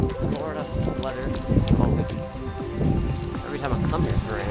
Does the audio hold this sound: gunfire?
no